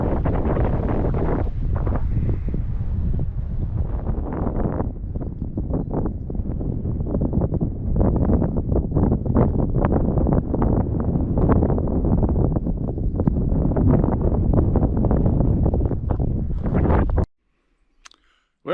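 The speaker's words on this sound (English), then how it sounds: "It's windy." Strong wind on a lake in Canada's Northwest Territories, buffeting the microphone in loud, gusty waves for about seventeen seconds before cutting off abruptly.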